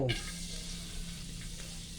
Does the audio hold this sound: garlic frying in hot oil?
yes